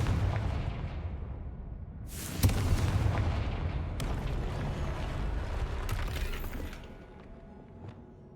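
The Confringo blasting spell in Hogwarts Legacy goes off in a single loud, sharp explosive burst with a rumbling tail, followed by clanking debris and a fading low ambience.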